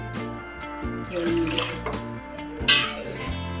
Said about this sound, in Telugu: ఇప్పుడు వాటర్ అయితే పోసుకోవాలండి